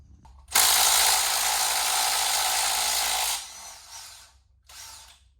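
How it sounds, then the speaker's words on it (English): A ratchet wrench cranks continuously and loudly on the oil pump bolts of a big block engine during teardown, one long dense burst of rapid clicking followed by shorter, quieter bursts after a brief pause. "I'm gonna go ahead and get the oil pump pulled off of it"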